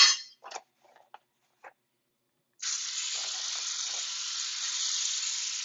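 Halloumi cheese dropped into a hot pan, a loud steady sizzle beginning suddenly after a few faint clicks and continuing evenly at close range.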